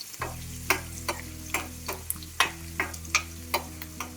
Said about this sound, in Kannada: ಲೋ ಫ್ಲೇಮಲ್ಲಿ ಇಟ್ಕೊಂಡು ಚೆನ್ನಾಗಿ ಫ್ರೈ ಮಾಡ್ಕೊಳ್ಳಿ